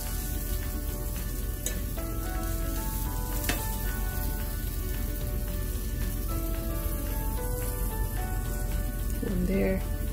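Mushrooms and eggs fry in a covered pan, a steady close crackling sizzle throughout with occasional small pops and light clinks.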